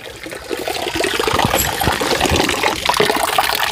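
Water runs and splashes steadily in a forest setting, a loud continuous gushing and trickling with no talk.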